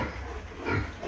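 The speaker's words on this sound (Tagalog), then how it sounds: "Yon, mga inahin." Sows on a pig farm give a brief, low, close grunting oink, lasting about a second against a steady background hum.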